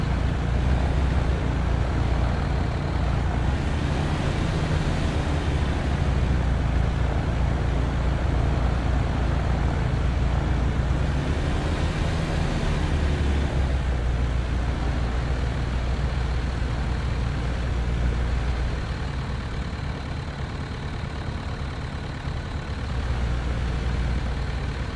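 The small engine of a Piper Cub taxiing on the ground in Flight Simulator X drones steadily at moderate volume, with a low rumbling hum that dips slightly toward the end and no talking over it.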